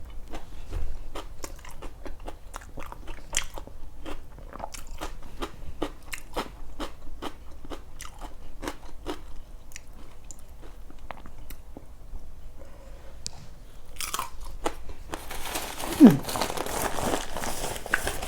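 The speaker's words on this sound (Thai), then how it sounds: "กินตับหมู" Close, crunchy chewing of large pieces of pork liver, with rhythmic wet bites repeating steadily, some crinkling of packaging near the end, and occasional faint talk.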